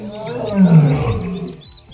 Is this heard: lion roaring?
yes